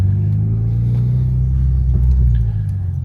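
Mitsubishi Evo X engine pulling hard on the road while accelerating to overtake, a loud steady low rumble that swells slightly toward the end, heard from inside the car with no talking.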